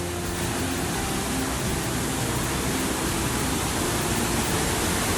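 Waterfall on a hiking trail roaring as a steady, loud, continuous rush of falling water, with no voices over it.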